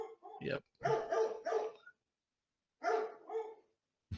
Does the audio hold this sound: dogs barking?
yes